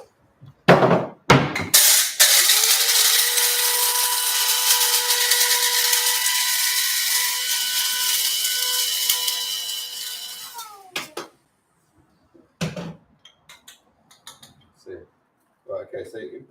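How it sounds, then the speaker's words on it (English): Coffee beans ground in an electric grinder, a loud, close, steady whirring grind lasting about nine seconds that winds down, framed by clicks and handling knocks. "get your coffee beans, grind them"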